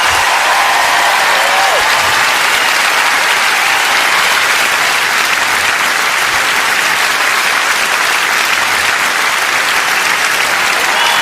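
Loud, sustained applause from a theatre audience at the close of a live stand-up comedy show, a dense, steady wash of many hands clapping with no talk over it.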